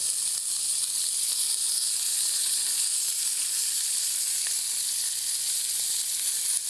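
Ranch steaks sear in a hot pan, giving a constant, close, loud sizzle and hiss with faint clicks as the meat is turned over.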